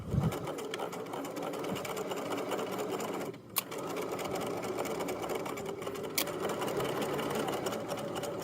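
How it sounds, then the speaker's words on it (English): A sewing machine runs a seam with a back stitch, a close, fast, steady mechanical whirr that briefly pauses for the reverse before carrying on evenly, with no talk. "I will sew to the end and back stitch again"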